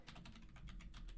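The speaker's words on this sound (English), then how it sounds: "Type the variable name" Steady, fairly quiet tapping on a computer keyboard while entering JavaScript code, a rapid even run of key clicks close to the microphone.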